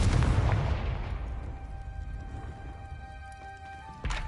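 A Confringo fire spell blast in Hogwarts Legacy bursts loud and close at the start, then rolls into a long, fading rumble and crackle that trails off over several seconds, with a small sharp hit near the end.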